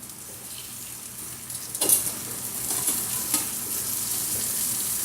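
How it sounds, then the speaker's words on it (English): A lumpia burger fries in a hot skillet, its sizzle swelling louder after a few clattering clicks and then holding steady and close. "So now we're gonna cook a Lumpia burger."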